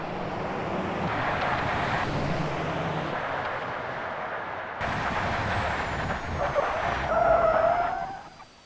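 A Mercedes braking hard in the BeamNG driving game, its tires skidding and squealing in a long continuous screech that shifts pitch near the end before cutting off.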